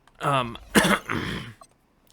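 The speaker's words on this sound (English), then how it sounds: "there may be an occasional cough here and there" A person coughs and clears their throat, with three harsh, close bursts in quick succession, then a short quiet trailing sound.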